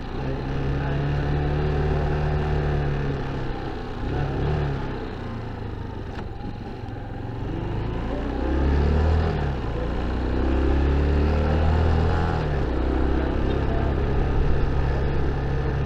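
A Motorstar motorcycle rides along a road, its engine droning steadily and rising in pitch at times, with a continuous loud hum throughout and no talking.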